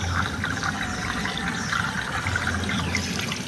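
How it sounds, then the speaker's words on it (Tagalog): Natural spring water trickles steadily beside a farm lot, a continuous close-up flow with no voices. "Medyo may bukal din dyan."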